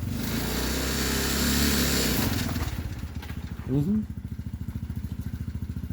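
A Tao GK110 go-kart's small engine shifted into reverse, a loud revving drone that drops to a steady, rapid putter idle, with a short voice cutting in near the middle.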